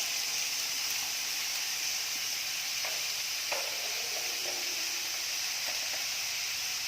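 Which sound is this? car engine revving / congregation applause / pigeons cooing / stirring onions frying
stirring onions frying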